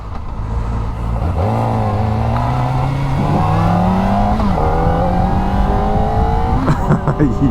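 Kawasaki Ninja ZX4RR mini supersport motorcycle accelerating up close, engine pitch climbing steadily through gears with brief dips at shifts, loud and continuous.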